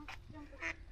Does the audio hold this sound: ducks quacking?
yes